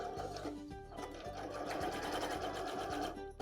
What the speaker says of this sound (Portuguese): Agora, a gente vai costurar, então, essa marcação. Então, dando o retrocesso no início, pra segurar mesmo.